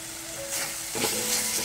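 Whisked yogurt is poured into a spice paste frying in oil for a rohu fish curry, and the steady close sizzle surges and turns bubbly as it lands, with light stirring.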